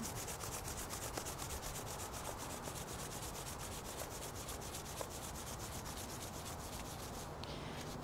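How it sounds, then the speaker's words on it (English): Hands rubbing together briskly during a tai chi warm-up, heard close as a fast, even, continuous rasping swish with no talk over it. "And rub the hands together again,"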